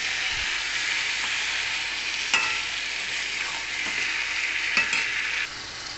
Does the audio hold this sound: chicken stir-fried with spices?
yes